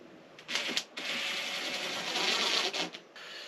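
A powered screwdriver drives a screw down through contact adhesive on a cap in a campervan. It gives a short buzzing whir, pauses briefly, then runs in a longer steady whir before stopping.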